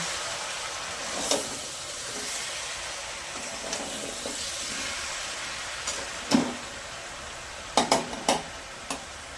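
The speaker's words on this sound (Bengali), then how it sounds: "সবজিগুলো দিয়ে ভালো করে নেড়ে চাপা দিয়ে দেবো।" Vegetables being stirred in a cooking pot for a fish-head and Malabar spinach curry, a steady low sizzle under scattered scraping and knocking clatters, with a cluster of sharper clanks near the end as the pot is covered.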